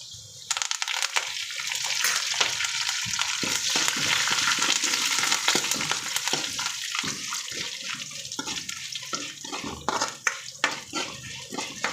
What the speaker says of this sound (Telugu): ఇప్పుడు దీంట్లో కొద్దిగా కరివేపాకు వేద్దాం